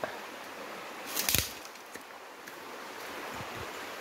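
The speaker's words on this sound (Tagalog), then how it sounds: "Ito na ang ilog." A shallow, rocky river at Pili, Sorsogon, flowing with a steady watery rush, a brief louder splash or gust about a second in, no speech.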